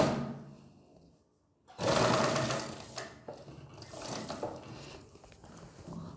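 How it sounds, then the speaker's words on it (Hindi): A sewing machine stitches a kurti collar in a short, close whirring burst that starts abruptly after a near-silent pause and then slows into uneven mechanical runs. "हल्का हल्का खींचते हुए हम इससे सिलाई लगाएंगे।"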